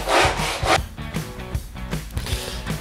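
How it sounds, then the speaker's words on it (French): Rhythmic back-and-forth sawing of fret slots into a baritone guitar fingerboard, close and steady, with repeated rasping strokes of a fine-toothed blade guided by a magnetic guide. "un guide aimanté vient guider la lame de scie pour faire des traits de scie parfaitement perpendiculaires"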